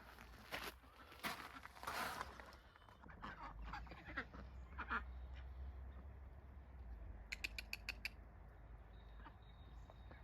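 Ducks and chickens call outdoors in a backyard garden, a scatter of quacks and clucks at moderate distance, with a quick run of sharp repeated calls near the end over steady low background rumble.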